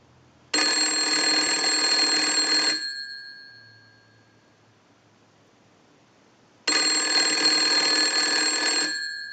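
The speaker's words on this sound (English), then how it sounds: "Now I want to use the analyzer and send a ring cycle like you were getting a call" A Kellogg wooden wall crank telephone's bell rings in two long, loud bursts of about two seconds each, separated by a few seconds of silence, driven by a test ring cycle on a workbench.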